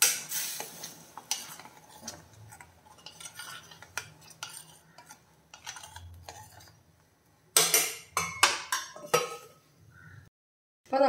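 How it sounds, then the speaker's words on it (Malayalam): A spoon stirs an okra and cashew curry simmering in a pot, giving scraping and clinking knocks against the metal in irregular bursts, with a soft bubbling sizzle underneath and no talking. "തുറന്നു നോക്കിയിട്ടൊന്ന് ഇളക്കി കൊടുക്കാം."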